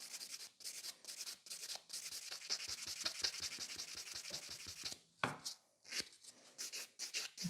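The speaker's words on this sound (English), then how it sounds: "I'm just going to take a buffer and give it a couple scratches to it" A nail buffer scratches over cured gel top coat in short quick strokes, close and soft, in bursts separated by brief pauses.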